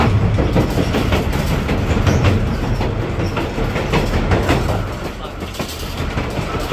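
A Conway Scenic Railroad passenger train rolls along the track through a rural area with a steady rumble and rhythmic clatter of wheels, a continuous close-up ride throughout.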